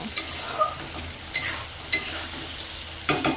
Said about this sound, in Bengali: ততক্ষণ আমি কষিয়ে নেব যতক্ষণ তেলটা না ছাড়বে